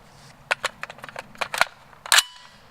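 Rifle shots fired through a cheap eBay muzzle brake with Tula 150 grain ammunition, a string of sharp, loud cracks at an uneven pace, with one final louder blast and a brief ringing tail.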